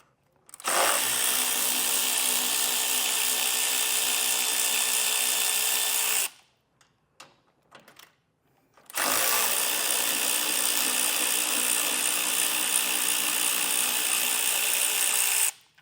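A power tool, likely an impact wrench driving a 13mm socket, buzzes loudly in two long bursts separated by a short pause with small clinks, while removing the lower bolts on a 2025 Ford during base plate installation.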